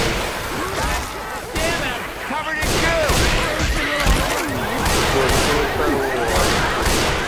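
Sharp, repeated gunfire from the zombie shooter game Left 4 Dead 2, with loud bursts and single shots throughout, mixed with game effects and someone talking over the action.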